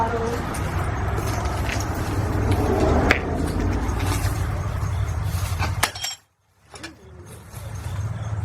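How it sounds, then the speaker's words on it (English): Glass crunches and cracks underfoot in an old, run-down motel room, with a few sharp crackles heard over steady talking and rustling background noise. "glass just broke under my foot"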